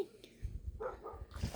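A dog gives a few short barks and yips indoors while someone talks over them.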